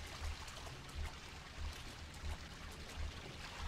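Water pours steadily in the Cry of Fear video game, a faint, low trickling stream with soft rhythmic pulses repeating roughly every three quarters of a second.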